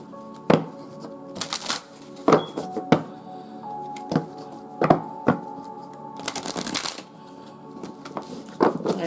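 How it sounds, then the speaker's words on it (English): A deck of playing cards is shuffled near the microphone: repeated crisp riffles and snapping bursts of cards at uneven intervals, with soft handling noise in between. "I like to make sure my decks are nice and shuffled before I let them fall out."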